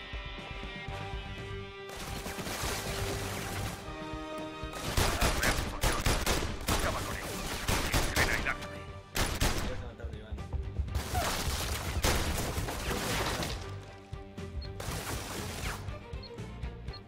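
Bursts of rapid gunfire in the PlayStation VR game The London Heist, loud and dense, broken by short pauses, with background music and effects underneath.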